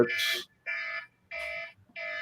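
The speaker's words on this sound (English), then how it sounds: "That's Somebody's alarm." An alarm sounds in a woodworking shop, four loud, steady electronic beeps in an even on-off rhythm, each lasting about half a second, with short gaps of silence between them.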